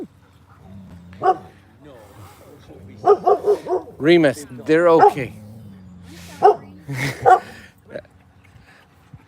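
Dogs barking and yipping at an outdoor dog park, a burst of close barks and whimpers in the middle, with people talking nearby throughout.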